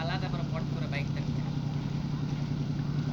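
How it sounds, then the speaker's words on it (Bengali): Motorcycle engine in the video game Ghost Recon Wildlands, a steady droning hum running throughout at even loudness, with faint voices underneath. "পিছনে চলে আসো বাইকটাকে নিয়ে যাতে পালাতে পারো"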